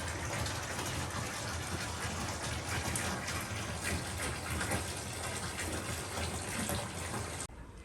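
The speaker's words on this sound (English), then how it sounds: "I think I may have put a little bit too much water in the bath." Water running hard into a bath at a free camping spot, a loud, steady gushing rush that fills the whole stretch before it suddenly drops off near the end.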